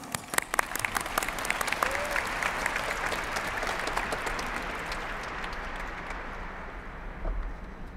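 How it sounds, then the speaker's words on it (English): Audience applause at a high school graduation ceremony, starting with sharp nearby claps that blend into a broad, sustained crowd ovation in a large hall before slowly thinning and fading. "Let's give them a huge round of applause"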